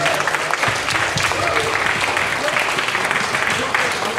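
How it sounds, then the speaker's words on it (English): An audience at a My Bloody Valentine screening and cast and crew reunion gives sustained, dense applause throughout, loud and close, with voices mixed into the crowd. "give them a huge round of applause"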